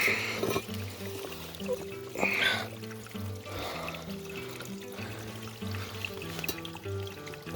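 Water pouring and trickling as it is gathered straight off a hillside outdoors, a steady splashing flow that swells and eases over several seconds, with a rhythmic musical pulse running underneath.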